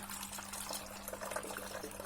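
Water is poured over a cluster of cleaned garden stones, giving a steady close trickling and splashing that runs on without a break.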